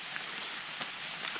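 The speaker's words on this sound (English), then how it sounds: "it is raining" Rain falls in a forest in Michigan's Upper Peninsula in October, a faint steady hiss with a few soft drop taps scattered through, heard alone with no voices.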